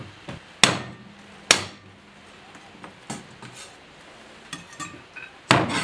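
A knife finely chopping ginger on a board gives sharp, crisp strikes at an uneven pace, a few loud hits among lighter taps, close up and with no talking.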